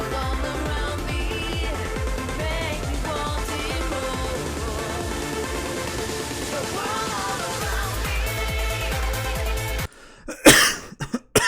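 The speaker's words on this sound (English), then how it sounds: "I've got a cough." A couple of sharp, loud coughs burst out near the end, right after a long stretch of music cuts off.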